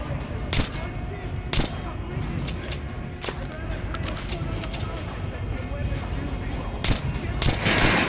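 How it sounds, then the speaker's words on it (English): Gunshots fired at an armored training dummy in the video game Metro Last Light, with several sharp separate shots and metallic pings over a steady background. "Look for sparks to know when you are shooting an armored target."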